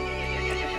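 A horse whinnies in the video game Resident Evil Village, a short, clear, fairly quiet neigh with a steady tone and no talk.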